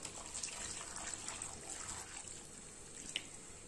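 Water pours and trickles steadily into a pressure cooker holding chopped vegetables and potatoes for pav bhaji, a soft continuous splashing that stays fairly faint throughout, with no talking.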